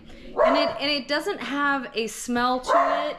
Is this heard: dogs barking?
yes